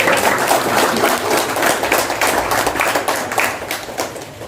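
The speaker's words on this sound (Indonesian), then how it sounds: "Luar biasa, tepuk tangan." Audience applause at a Jakarta event during the COVID pandemic, a steady, dense round of clapping from a crowd that holds at an even level throughout, with no voices over it.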